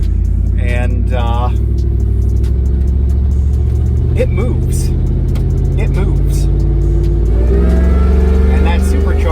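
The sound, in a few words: supercharged truck engine revving, side-exit single exhaust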